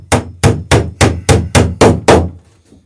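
Eight evenly spaced, loud hammer blows drive a nail into a wooden rail, each a sharp close knock with a short ring, followed by a faint tap as the rhythm stops.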